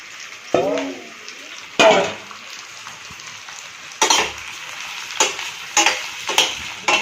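Sliced bitter gourd frying in a pan, with a soft sizzle broken by several sharp scraping and clattering bursts from stirring, spaced irregularly and close by.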